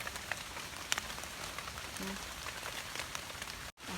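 Steady rain patters down during a morning of mushroom picking in rural Thai woodland, a dense, even hiss with a few sharper drops, fairly close and unbroken until a brief dropout near the end.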